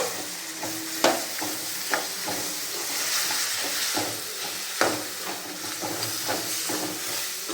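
Chopped tomatoes sautéed in a pan for sundakkai vathal kuzhambu, a steady hissing sizzle broken by repeated spatula scrapes and knocks against the pan, close and without speech.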